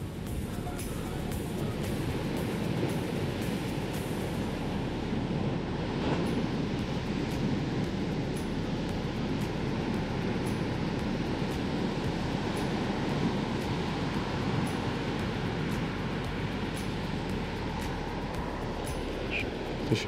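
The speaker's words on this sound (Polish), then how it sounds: "Fale są olbrzymie" Huge ocean waves pound the Hawaii coast in a steady, roaring wash of surf with wind rumble, loud and continuous throughout.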